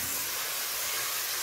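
Pork loin sizzles in hot oil with onion, a loud, steady, close-up hissing fry with no break and no voices.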